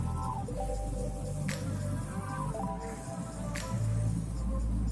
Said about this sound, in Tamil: எல்லாத்தையும் சேர்த்து நல்லா கலந்து விட்டுக்கலாம்